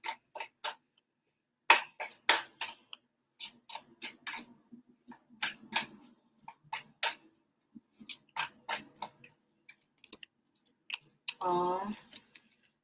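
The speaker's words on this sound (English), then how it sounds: "To shuffle the cards." Rapid, crisp tarot-card shuffling clicks in quick bursts with short pauses between, close and fairly soft, with a brief voice near the end.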